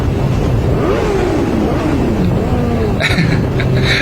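A Suzuki motorcycle engine revs hard while racing through a tunnel, its pitch sweeping up and down through gear changes, loud and close beneath steady wind rush.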